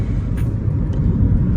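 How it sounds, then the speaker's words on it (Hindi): Car rolling along a highway on a long road trip from Pathankot, a steady low engine and road rumble close by with a couple of faint brief clicks. "बहुत देर से कंटिन्यूसली गाड़ी चलाए जा रहे हैं।"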